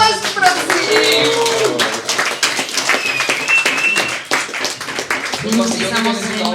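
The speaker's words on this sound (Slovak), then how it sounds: "potlesk prosím!" A crowd at a book launch applauds after a book christening, with lively, close clapping mixed with voices and cheerful chatter throughout.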